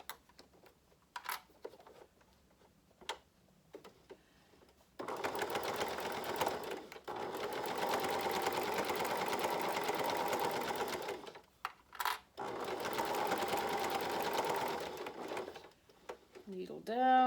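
A sewing machine stitching a fabric face mask runs in two long, steady bursts separated by a short pause, preceded by scattered clicks and light handling noise, with a voice speaking briefly nearby.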